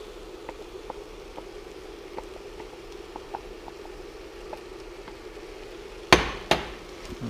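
Turkey chili with peppers and onions is stirred in a cast iron pot on an induction cooktop: quiet bubbling under sparse light taps, then a few sharp metallic clanks near the end.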